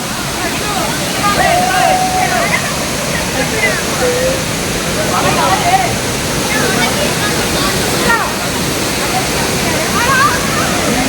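Loud, steady rush of Lakkam Waterfalls in Munnar fills the scene, a constant roar with splashing and spray, while a voice talks over it.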